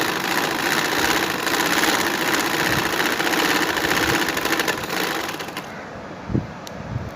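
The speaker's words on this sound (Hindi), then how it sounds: "अब मैं सिलाई यहाँ से स्टार्ट करूँगी।" A sewing machine runs steadily for about six seconds, stitching through stiff buckram fabric for a neck design with a close, continuous whirring hum, then stops, leaving a few faint handling knocks.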